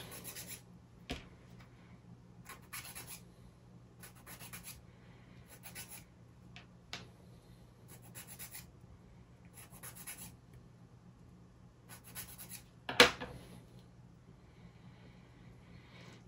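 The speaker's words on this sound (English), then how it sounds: "As always, we wax and sand all of these." Wooden UGears Windstorm Dragon model parts are sanded and waxed, heard as short rasping rub strokes repeating every second or so, close and fairly quiet, with one sharper knock near the end and no talking.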